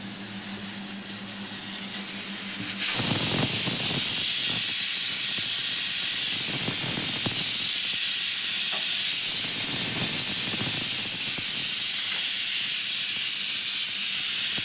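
Ration rice hissing on a hot tawa griddle: a quieter low hum first, then a sudden, steady, loud broadband hiss that runs unbroken to the end with no talking.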